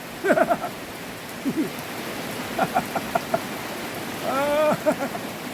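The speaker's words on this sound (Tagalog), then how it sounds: "May ulan na!" Rain falls in a steady hiss beneath excited shouting voices, the patter continuing evenly throughout.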